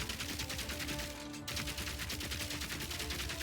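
Rapid automatic gunfire from the video game Path of Exile 2 streams in continuous dense bursts, loud and steady, with one brief lull midway.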